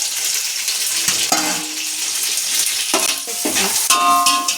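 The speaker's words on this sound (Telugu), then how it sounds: "ఆయిల్ బటర్ వేసుకొని ఆనియన్స్ ఫ్రై చేసుకోవాలి" Onions frying in oil and butter with a bay leaf, a steady close sizzle with a few stirring scrapes and clinks of a spoon against the pan.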